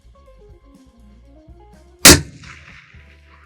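A single sharp, loud 6.5 Creedmoor rifle shot cracks out midway at a 1,345-metre range, followed by a brief echoing tail, over a quiet low hum.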